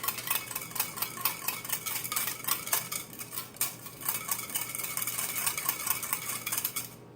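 A small whisk clinks rapidly against a bowl while dissolving active dry yeast in liquid for focaccia dough, a close, rhythmic metallic tapping and scraping that continues steadily throughout without any talking.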